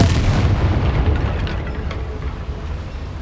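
A Confringo blasting spell in Hogwarts Legacy erupts in a deep, close rumbling boom that rolls on and slowly fades over a few seconds, with crackling debris in the tail.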